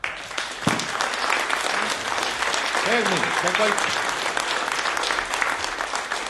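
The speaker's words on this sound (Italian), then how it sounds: "un applauso" Dense applause from an audience, a continuous crackling wash of clapping, with a brief voice speaking partway through.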